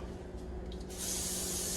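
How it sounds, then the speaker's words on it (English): Cooking spray hisses onto a hot baking pan before stuffed bell peppers go in, a steady close aerosol spray lasting about a second after a brief quiet moment. "Spray my pan."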